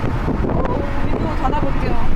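Wind rushing through the open window of an Actyon Hybrid at 80 km/h, a steady broadband buffeting roar mixed with road noise.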